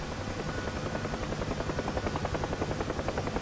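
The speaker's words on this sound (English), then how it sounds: "That's a great helicopter sound." A UH-1H Huey helicopter's rotor thumps in a steady, fast rhythm over a loud engine whine, close and continuous, in the flight simulator game Digital Combat Simulator.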